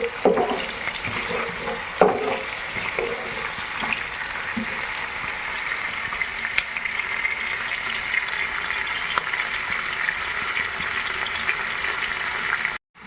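Onions for a pepper kuzhambu sizzle steadily in a pan, a continuous close frying hiss with a few scraping stirs near the start and no talking.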